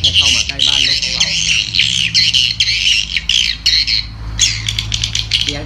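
Swiftlet "Sinta" lure call played loud through a MEGA HORN HP-4000 horn speaker with a BZ11 amplifier, a dense run of sharp repeated chirping squawks pouring out almost without pause.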